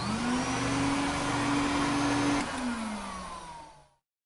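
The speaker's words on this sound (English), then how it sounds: "I vacuum the carpet." A vacuum cleaner runs on carpet as a loud, steady motor whine with a sustained tone, then winds down and cuts off near the end, with no voices.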